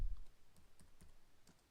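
Light clicking of a computer keyboard as a spreadsheet formula is typed, a short run of quiet, evenly spaced keystrokes heard alone.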